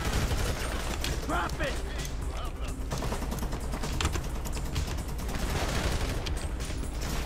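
Gunfire in Grand Theft Auto V crackles in rapid, dense volleys throughout, with automatic weapon bursts layered over a busy shootout while voices shout over the noise.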